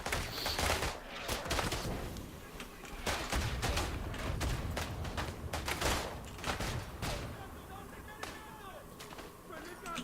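Rifle and gunfire from a player in the WWI shooter Isonzo crack out in rapid, irregular shots, loud and close, mixed with other battlefield shooting.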